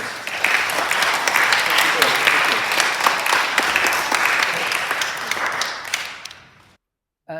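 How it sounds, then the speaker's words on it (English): An audience applauds at the close of a lecture on science and God: dense, steady clapping holds for about six seconds, then thins out and fades to silence. "So can we have another round of applause?"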